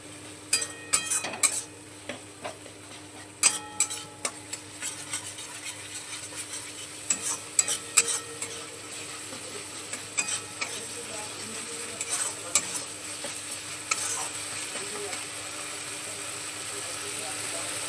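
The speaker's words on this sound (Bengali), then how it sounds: "আদা বাটাটাও বাকি মশলাগুলোর সঙ্গে খুব ভালোভাবে কষিয়ে নেব" Ginger paste and spices cooked down in oil for chana masala, a quiet background sizzle broken by sharp repeated scrapes and clatters of a spoon against the pan, close by.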